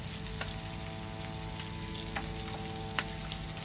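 Pointed gourd (potol) fries in a pan with a steady, dense sizzle, broken by a few light clicks of stirring, close and even throughout.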